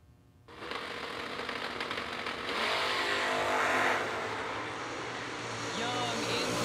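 Split-bumper and first-generation Camaros launch side by side at a drag strip, a loud engine roar that starts suddenly and builds steadily as they accelerate away, with an announcer talking over it.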